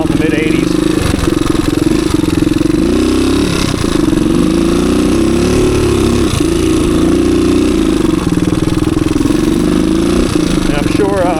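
A low-hour 1985 DR250 dirt bike rides through the woods, its single-cylinder engine droning steadily and loudly throughout, rising and falling slightly as the throttle shifts.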